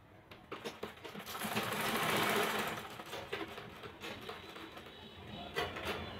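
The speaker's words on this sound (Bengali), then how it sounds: "আমি তোমাদের সেলাই করে দেখাচ্ছি।" A domestic sewing machine stitches in one continuous whirring run that swells and eases, with a few clicks and knocks toward the end.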